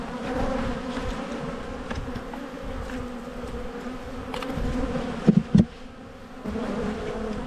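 Honey bees buzzing around an open hive during a colony split, a dense, steady hum of many insects close by, with a couple of brief clicks partway through.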